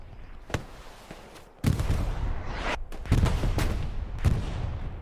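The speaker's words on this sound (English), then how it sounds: "Or getting blasted by artillery" Artillery shells exploding across a World War II battlefield in the shooter game Hell Let Loose, a series of sharp blasts and booms, some near and loud, others fainter, spread irregularly over continuous battle noise with no voices.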